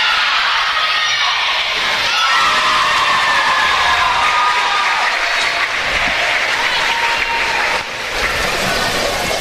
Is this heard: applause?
yes